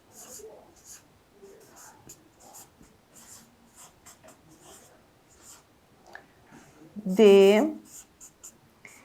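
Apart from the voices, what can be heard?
teacher writing on the board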